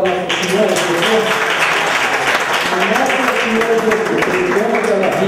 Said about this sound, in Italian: noi vogliamo fare un applauso al nostro Signore Gesù